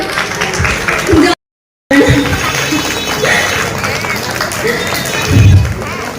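Audience applause at a Basanta Utsav gathering, a loud, dense clapping from a crowd with voices mixed in, briefly cut off by a gap of silence before resuming.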